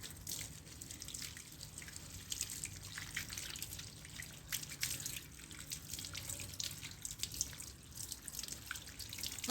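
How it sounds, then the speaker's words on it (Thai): Running water washes pests off a coconut bonsai, a faint steady trickle and patter of droplets that continues evenly throughout. "ล้างตัวออกให้หมด"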